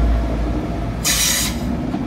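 A Transport for Wales class 175 diesel multiple unit, two carriages, pulls out of Manchester Piccadilly station with a steady low rumble of engine and wheels, and a brief high squeal from the rails midway.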